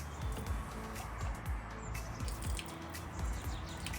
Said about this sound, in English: pull the trigger and hold until water starts to trickle.